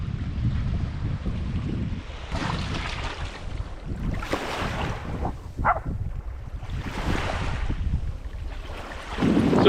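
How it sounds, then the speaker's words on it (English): Ocean waves surging and washing ashore off Fogo Island, a steady broadband roar with several swelling crests, mixed with heavy wind buffeting the microphone. "go get the waves. Go get them."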